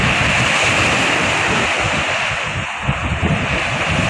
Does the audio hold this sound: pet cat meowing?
no